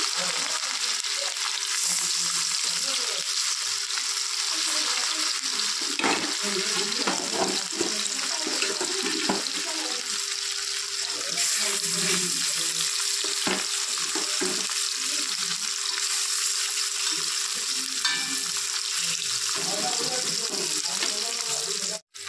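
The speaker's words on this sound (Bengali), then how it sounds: "তো তেলটা গরম হয়ে গেছে, এক এক করে মাছগুলো দিয়ে দিচ্ছি।" Salted, turmeric-rubbed katla fish pieces fry in hot oil, a loud, steady crackling sizzle that runs unbroken throughout, with occasional spatters and utensil taps.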